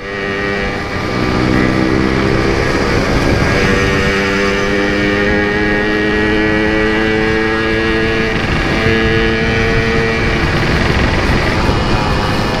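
A Yamaha RX King motorcycle with a Bibir Merah exhaust rides out on a long road trip, making a loud, continuous droning exhaust note whose pitch rises and falls with the throttle, with no voices.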